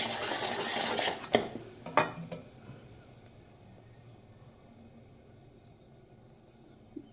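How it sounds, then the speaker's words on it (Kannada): A Mysore pak mixture is stirred in a pan, with loud scraping at first, then three sharp metal clinks of a spoon against the pan's side before the noise settles into a faint, steady hiss. "ಒಂದು ಗಂಟು ಇರಲಾರ್ದಂಗೆ ನಾವು ಮಿಕ್ಸ್ ಮಾಡ್ಕೋಬೇಕು"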